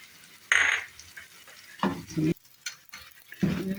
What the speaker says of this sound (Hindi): इसमें मैं थोड़ी सी अदरक जूली और हरा धनिया और हरी मिर्च